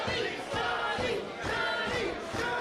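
A wrestling crowd at an indoor event chants and shouts in rhythmic rallying bursts for a tag team, loud and continuous with pulsing swells.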